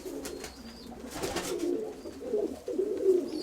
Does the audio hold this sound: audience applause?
no